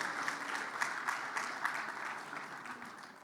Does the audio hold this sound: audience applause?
yes